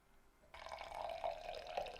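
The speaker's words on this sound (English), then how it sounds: "And then pour it right into our cup." French press coffee streams steadily into a cup, a soft continuous trickling pour that starts abruptly and runs to the end, close and quiet with no talking.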